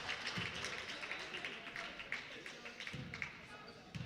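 A full gym crowd at a girls' secondary school basketball game cheers and claps in a steady, dense roar, with scattered shouts and ball bounces, while commentators talk over it.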